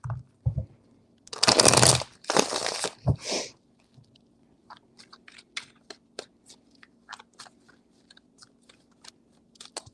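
Tarot cards are shuffled close by in three quick riffling bursts, followed by soft scattered taps and card handling.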